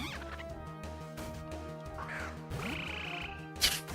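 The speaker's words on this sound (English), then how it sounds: "what a weird noise for a fucking frogmon" A frog Pokémon's cry in Pokémon Black, a bird-like squawking call with rising chirps and a sharp burst near the end, heard over looping game music with no voices.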